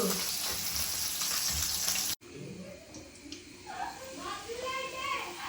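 Fish frying in a pan, a steady dense sizzle, loud and close, that cuts out abruptly and then returns softer with some clinking, with a voice speaking over it.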